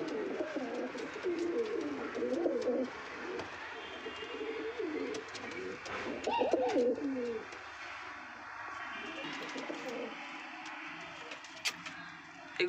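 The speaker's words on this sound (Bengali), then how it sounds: "এগুলো সব নর বা ছেলে পায়রা।" A group of male pigeons coos at close range, their low throaty warbling rising and falling in overlapping bursts, loudest in the first half and then thinning to softer coos and faint rustling.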